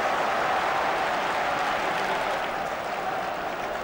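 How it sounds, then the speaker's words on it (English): A huge rugby crowd at Murrayfield applauds warmly and steadily, a dense, loud wash of clapping that holds throughout without pause, heard from within the stands. "Delightful, sympathetic reaction from this huge crowd here at Murrayfield as a young fellow goes up."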